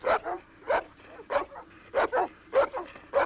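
A pack of dogs just let out barks repeatedly in quick, irregular bursts, sharp and near, with some yipping and whimpering between barks.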